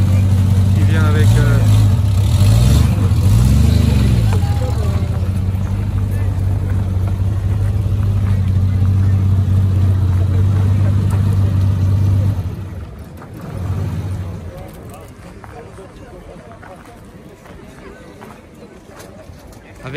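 A Triumph sports car pulls up close and revs hard, a loud, throbbing engine note that swells and dips before cutting off abruptly, leaving quieter background sounds with voices nearby.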